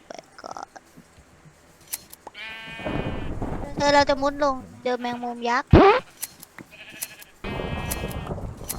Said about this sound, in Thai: ผมก็เลยเจอแกะ